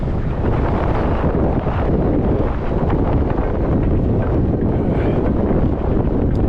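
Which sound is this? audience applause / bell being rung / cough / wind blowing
wind blowing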